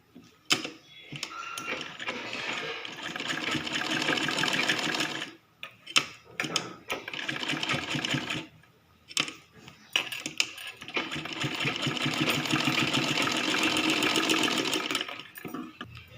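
Sewing machine stitching a baby frock in a square pattern, with rapid rattling runs of stitching broken by short pauses, close and loud with no voices.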